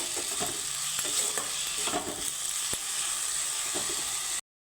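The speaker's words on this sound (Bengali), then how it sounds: "আলুর সাথে আমি সুন্দর করে ভেজে নেব" Raw, washed potatoes frying in a pan, a close, steady sizzle broken by frequent scraping strokes of a spatula, a quick uneven rhythm of stirring that carries on alone without any voices.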